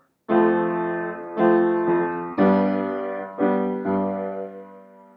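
Piano chords from a ballad, played with both hands together: five sustained, ringing chords struck one after another at a slow, even pace, each decaying before the next, close and clear with no talking.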